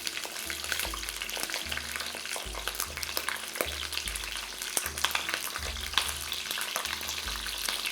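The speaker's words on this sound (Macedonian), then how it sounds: "во истото масло кај што се пржат пиперките" Peppers fry in hot oil with a continuous bright sizzle and crackle, while low rhythmic thumps recur about twice a second underneath; no one speaks.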